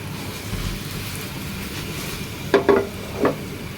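Paratha fries in oil in a pan with a soft, constant sizzle, broken by a few brief louder crackles and spatters close by.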